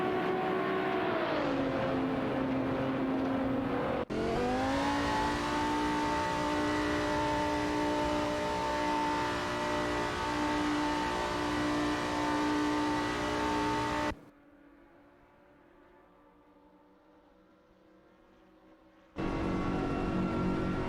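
McLaren 650S GT3 and Audi R8 LMS Ultra race cars in a racing video game, sustained engine drone with pitch rising through gear changes, a sudden cut, then a quieter hum before the engine roars back.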